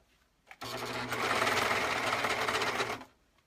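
Sewing machine stitching the casings on little girls' legging shorts, a steady fast whirring run of about two and a half seconds that starts abruptly and stops cleanly, close and alone with no talk.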